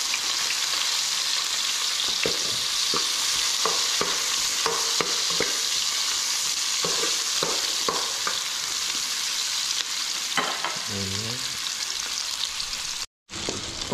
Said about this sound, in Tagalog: Gisahin natin yung luya.